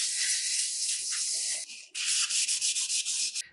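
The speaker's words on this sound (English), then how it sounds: "we're just using oil to work the rust off the cooking surface as much as possible" Someone scrubs rust off the cooking surface of a cast iron skillet with oil, making a continuous rough, gritty rubbing with a brief pause midway before quicker, choppier strokes resume, close and alone.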